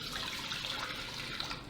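Room-temperature water, about 1 3/8 cups, pours steadily into a bread machine pan, making a continuous splashing hiss near the listener with no talk.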